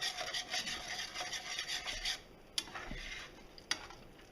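Spoon scraping and rubbing around a pan as xanthan gum is stirred into a chicken and mushroom gravy, a close, steady rasping with a couple of sharp clicks near the end.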